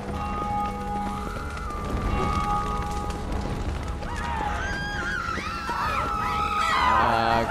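Women scream and wail in The Witcher 3: Blood and Wine, with shrill rising and falling cries layered over game ambience and hoofbeats, growing louder toward the end.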